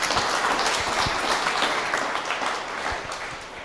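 A live audience at the RiverPitch 2021 startup pitch event breaks into dense, sustained applause, with many hands clapping together loudly and evenly before it slowly begins to thin.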